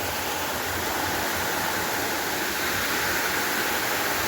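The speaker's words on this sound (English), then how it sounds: "So this is the lower section of Grogan Creek Falls." Lower section of Grogan Creek Falls roars nearby with a constant, broad rushing of falling water, steady and full throughout with nothing else heard.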